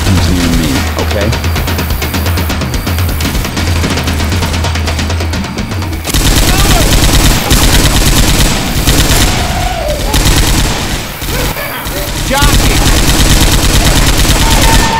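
Gunfire in the video game Left 4 Dead 2 on Cold Stream: loud, dense bursts of automatic fire crackling continuously with booms, mixed with game noise and voices talking throughout.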